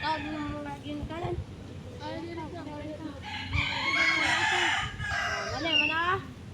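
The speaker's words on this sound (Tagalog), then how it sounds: "Mga manok." Chickens and a rooster cluck and crow repeatedly nearby, with the rooster's rising calls standing out, mixed with people talking, including children's voices.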